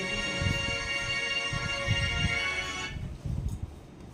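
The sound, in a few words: phone ringtone, call from home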